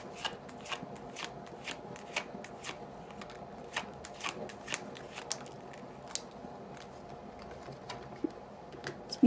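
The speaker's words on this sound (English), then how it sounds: "Okay, we'll pull 3 cards." Tarot cards are shuffled up close in a quiet room, giving a run of soft, irregular riffling flicks and taps spread across the whole stretch, with no one speaking.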